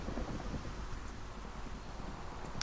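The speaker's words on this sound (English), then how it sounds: "Oh great, now it's raining." Steady rain with a low thunder rumble in Minecraft, a continuous wash of noise throughout with no voices.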